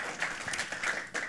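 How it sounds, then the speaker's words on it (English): Brief burst of audience applause at a big data conference talk, a short spell of scattered clapping from the room. "No questions, then please applause for Péter."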